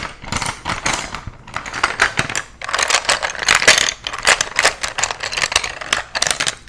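Hard wooden Prismacolor colored pencils clatter and rattle against each other in rapid, dense bursts, close and fairly loud, with short pauses between handfuls.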